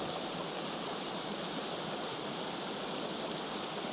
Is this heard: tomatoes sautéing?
no